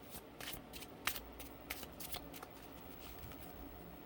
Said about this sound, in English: I'm going to pull one more card for you guys.